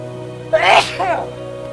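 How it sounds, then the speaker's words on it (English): A single video game sneeze, close and clear, with a sharp intake then a burst, over a faint steady background hum. "That was more about that sneeze coming in."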